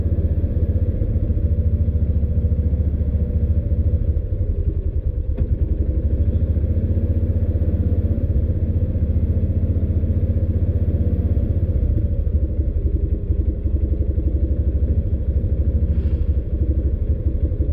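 A 2016 Kawasaki Mule 610 utility vehicle engine with a bad carburetor running roughly, a loud, steady low rumble with a close, uneven clattering pulse that goes on throughout.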